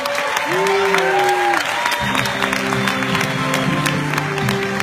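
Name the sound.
audience applause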